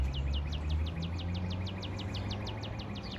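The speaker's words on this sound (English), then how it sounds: "I don't know what that bird is." An unidentified bird calls from around a house and garden. It repeats a quick, high chirp in a steady, even rhythm, several times a second, fairly clear above a low constant background hum.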